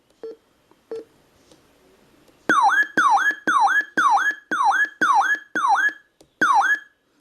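A weather radio sounds its alert test tone: a few faint clicks, then eight loud, close, repeated warbling chirps in a steady rhythm with brief gaps, the last after a slightly longer pause.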